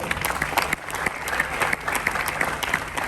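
A large audience at a stock market training session for young Rotarians in Thane bursts into sustained applause, a dense, steady wash of many hands clapping at close range with no talk over it.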